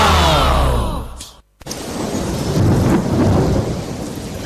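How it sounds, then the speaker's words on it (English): Heavy rain pours steadily while thunder rumbles loudly, cut by a brief silent gap before the downpour resumes, dense and close. "It was raining"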